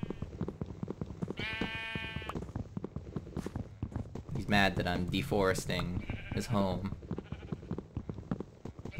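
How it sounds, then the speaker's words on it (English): Minecraft sheep bleat repeatedly in a quick run of nasal calls, close and loud, alongside blocky footstep clip-clops while someone talks over them throughout. "He's got a whole sheep gang ready to jump me."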